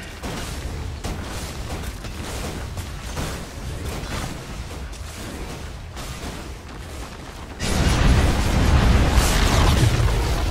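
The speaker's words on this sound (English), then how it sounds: "Radiant's top tower is under attack" Tower under attack in Dota 2: dense game battle noise with steady booming, bursting attack impacts and mechanical clatter, growing louder and fuller in the last few seconds.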